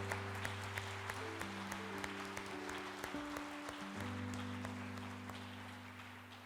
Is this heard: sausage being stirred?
no